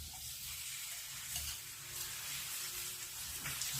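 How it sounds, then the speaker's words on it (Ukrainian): Soft, steady sizzling of hake fillets coated in flour and egg frying in a pan, with light crackles and faint kitchen clatter underneath. "вибрали в себе борошно, яйця і викладаємо на сковорідку"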